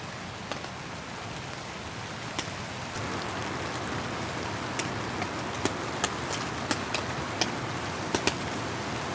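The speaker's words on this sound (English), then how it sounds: "Just watching the rain come in." Gentle rain falls steadily on a tent while camping, a soft continuous hiss with scattered close drips tapping the fabric.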